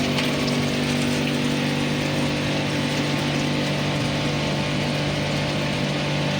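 A water vending machine in a Malaysian supermarket fills a bottle with a steady, continuous pump hum and rushing flow, loud and unbroken throughout.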